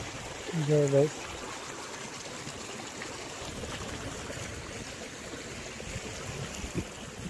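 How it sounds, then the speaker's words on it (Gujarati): Swollen river water rushing past after heavy rain, a steady broadband roar of flowing water close by, with a brief burst of voices near the start. "અહીંથી એટલું પાણી જાય"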